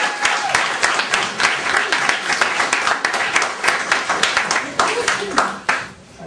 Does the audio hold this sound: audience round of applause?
yes